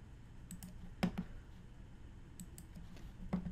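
Quiet, sparse mouse clicks on a computer: single soft clicks scattered across a few seconds, some doubled, over a low steady room hum.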